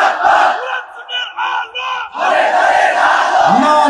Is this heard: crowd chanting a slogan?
yes